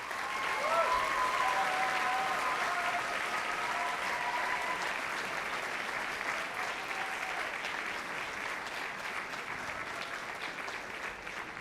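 An audience at a choral concert gives sustained applause for choir director Robert Filion, dense clapping that slowly tapers, with faint voices or cheers mixed in early on.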